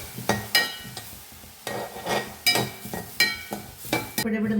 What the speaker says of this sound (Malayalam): പിടിപിടുന്നതിനെ പൊരിയണത് വരേക്ക് നമുക്ക് ഒന്ന് ഇളക്കാം.